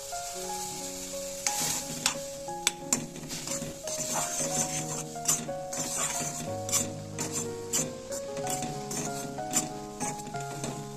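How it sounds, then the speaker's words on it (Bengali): Semolina being added gradually and stirred into boiling salted water in a pot, a utensil clinking and scraping against the metal in irregular taps over a bubbling background, no talk. "তো জলটা আমার ফুটতে আরম্ভ করেছে, আমি এই পর্যায়ে সুজিগুলো আস্তে আস্তে দিয়ে দেব।"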